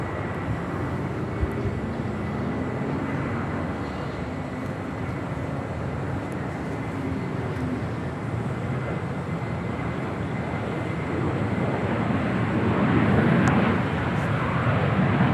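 A passenger airliner lands at Los Angeles International Airport, its steady broad engine roar growing louder and fuller toward the end.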